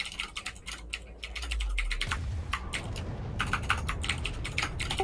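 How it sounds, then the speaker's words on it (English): Someone types on a loud computer keyboard in rapid bursts of sharp clacks, pausing briefly before resuming with a low background hum underneath, close and clear. "That is a loud fucking keyboard."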